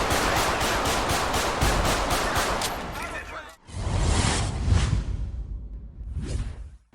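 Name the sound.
gunfire during a police shootout in a video game (GTA LSPDFR)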